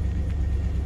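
A frozen junk Subaru or Dodge Ram engine running at a steady idle, with a low, continuous rumble held close and even throughout.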